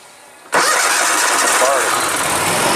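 A vehicle engine with a faulty starter cranks and fires after a short quiet lead-in, then runs loud and steady at close range for the rest of the clip.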